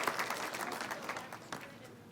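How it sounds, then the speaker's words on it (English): A short burst of audience applause after a question, dense clapping at moderate volume that fades slightly over two seconds. "Round of applause for your question"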